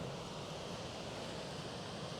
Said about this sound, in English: There's a waterfall down there.